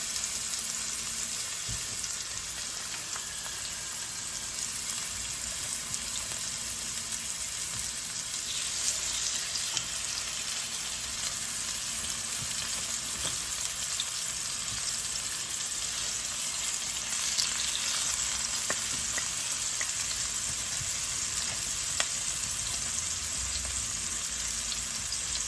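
Seasoned, marinated lamb chops fry steadily in vegetable oil, giving a dense, continuous sizzle close up with occasional faint clinks and no talking.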